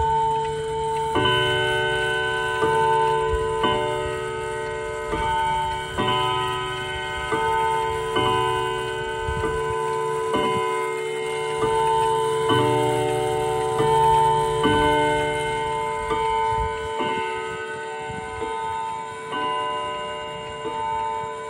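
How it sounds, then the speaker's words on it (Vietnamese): A Japanese mechanical chiming clock that strikes on the half hour and hour rings out a sequence of evenly spaced, resonant bell tones, loud and close, with no voices. "tiếng chuông của nó là tiếng chuông bính bon nha anh em"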